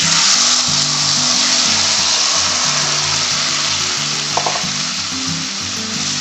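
Kashmiri red chili is stirred into malai kofta gravy frying in a pan, giving a loud, steady sizzle with a brief scrape of the spoon partway through.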